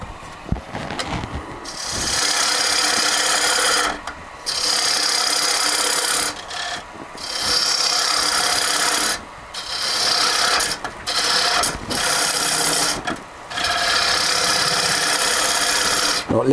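Rough, rasping strokes of sanding across a surface, repeated in long passes separated by brief pauses.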